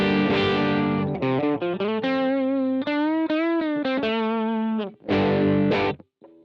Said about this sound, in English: I'm going to select the Vox lead amp